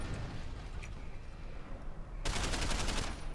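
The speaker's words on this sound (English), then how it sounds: "I've never been a big fan of this assault rifle." Assault rifle gunfire in Deus Ex: Human Revolution, a stretch of low rumbling quiet broken by a sudden, loud, sustained burst of rapid automatic shots that continues to the end.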